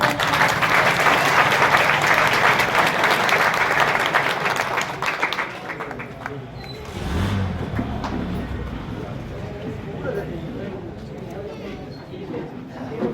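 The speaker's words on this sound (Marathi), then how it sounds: "मला वाटतं जोरदार टाळ्या" A crowd applauds loudly for several seconds at an award ceremony, then the clapping thins and fades to a lighter patter while voices murmur underneath.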